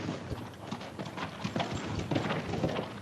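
Horse hooves clip-clop in a quick, uneven rhythm for a few seconds, close and fairly loud, in a scene from the 1943 film It's A Great Life.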